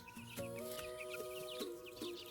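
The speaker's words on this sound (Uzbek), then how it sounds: "menda eksperiment bo'lib seleksiya natijasida chiqqan jo'jalar" Broiler chicks from a selection experiment cheep and peep in a rapid, overlapping chorus, with a few deeper clucks from nearby fowl, fairly quiet and close with no talk.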